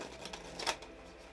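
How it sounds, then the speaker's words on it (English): Tarot cards being shuffled, giving a brief, quiet burst of papery riffling clicks with no voices. "I'm going to shuffle these up"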